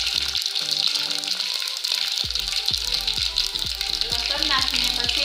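Mustard seeds, cumin and garlic crackle in hot oil for a stuffed brinjal curry, a loud, steady close-up sizzle running throughout with a voice talking over it.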